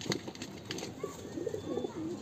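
Madrasi breed pigeons coo softly in repeated low throaty calls, close by, over faint background rustling.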